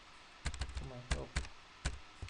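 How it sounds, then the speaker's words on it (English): Computer keyboard arrow keys tapped while moving buttons in a Visual Studio application, a few sharp separate clicks at uneven intervals, close to the microphone, with a brief bit of quiet speech in between. "I'm using my keyboard to the arrows in my keyboard to move my buttons closer to each other"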